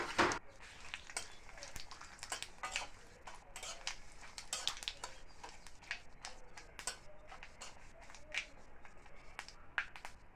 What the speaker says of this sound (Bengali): আর এই তেলের মধ্যে দিয়ে দেবো 5 ফোড়ন, শুকনো লঙ্কা আর তেজপাতা